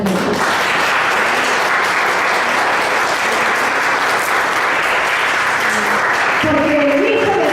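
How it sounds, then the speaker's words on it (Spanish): A church congregation bursts into loud, sustained applause that fills the room for about six seconds, and a voice comes in over the tail. "¿Quién le puede dar un fuerte aplauso a Dios?"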